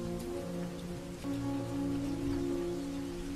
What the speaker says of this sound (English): The rain is ridiculous.